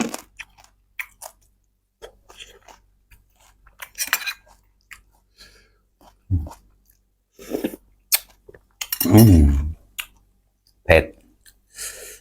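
Someone chews crunchy pickled crab up close, with sharp irregular crunches and clicks between pauses and one louder, longer bite in the middle.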